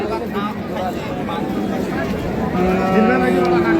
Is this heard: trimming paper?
no